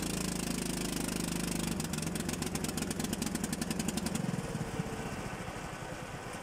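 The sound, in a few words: go-kart engine running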